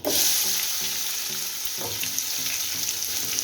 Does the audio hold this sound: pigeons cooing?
no